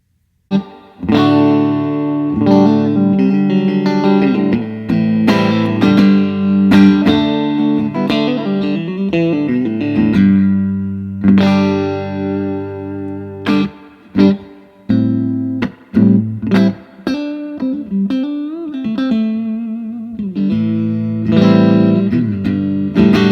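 Electric guitar played through a 1967 Fender Super Reverb amp with springy reverb, notes and chords ringing out and trailing off, with no talking.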